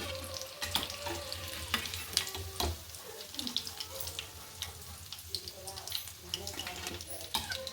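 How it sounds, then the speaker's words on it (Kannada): Pieces of chicken kabab deep-frying in hot oil, a steady dense sizzle and crackle running throughout with brief clinks and scrapes on top. "ಇದೇ ರೀತಿ ಇನ್ನುಳಿದು ಹಾಕಿ ಕರಿಬೇಕು."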